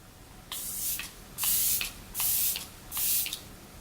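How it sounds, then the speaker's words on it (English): A Kat Von D Lock-It setting mist bottle sprays four close, loud bursts of fine mist, each a short hissing puff separated by brief pauses. "I'm going to go in with my Lil Baby Kat Von D Lock-It Setting Mist."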